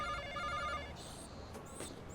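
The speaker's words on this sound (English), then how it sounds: "Concord 3000. Push button phone and built-in answer machine." A Concord 3000 push-button telephone with a built-in answering machine rings with faint, steady electronic tones at first, then trails into quieter background noise.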